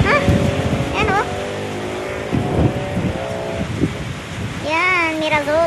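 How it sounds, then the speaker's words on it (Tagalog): Strong gusting typhoon wind roars over a steady rushing background in the Philippines, with people talking and calling out over it. "Ang lakas ng hangin."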